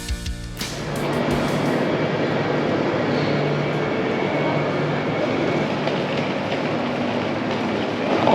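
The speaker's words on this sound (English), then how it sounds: "we have just arrived at the Belgrade train station" A passenger train pulls into Belgrade station at the end of the Bar to Belgrade run, with a sharp hiss and clatter at the start and then a continuous loud rumble of cars rolling along the rails.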